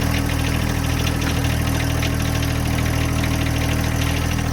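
A car engine idles steadily after a cold start, a loud, constant mid-pitched rumble with a faint knocking vibration and no talk.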